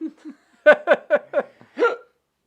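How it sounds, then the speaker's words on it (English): A person hiccups repeatedly during a live podcast, two soft catches then a run of sharp, close hiccups in quick succession ending with a longer one, with no other talk. "Your hiccups are wild."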